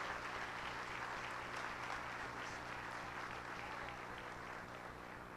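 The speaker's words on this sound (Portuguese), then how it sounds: "Você pode aplaudir Jesus pela vida do pastor?" Church congregation applauding, a steady, even patter of many hands clapping that fills the room and fades slightly at the end, recorded at a low level.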